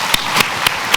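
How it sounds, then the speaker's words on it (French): An audience claps for Sophie, a colleague honored for ten years, in a room; four broad bursts of hand claps spread across one second, fairly loud and close, with no talk. "On se lève et on applaudit Sophie."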